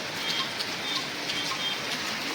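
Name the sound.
heavy rain falling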